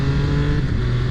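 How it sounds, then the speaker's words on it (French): A 2022 Triumph Speed Triple 1200 RR motorcycle engine runs with a loud, steady, close-up drone, with no talk over it. "vous l'entendez, ce moteur hein, qui donne toute sa vie et sa vigueur à cette moto"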